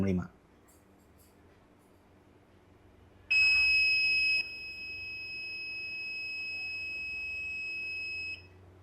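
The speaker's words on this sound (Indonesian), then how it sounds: "Jadi dia akan berbunyi bip panjang selama 5 detik" A DTF printer's timer gives one long, loud, steady electronic beep lasting about five seconds, following a brief knock and a stretch of quiet machine hum.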